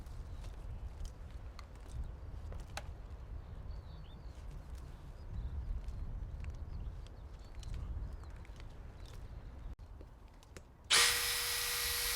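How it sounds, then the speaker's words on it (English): A power drill bores into wood to cut a lock mortise during an off-grid roof build, a steady grinding whir with scattered knocks and clicks running for about ten seconds, then cut off by a sharp bright tone at the end. "So I started drilling into this."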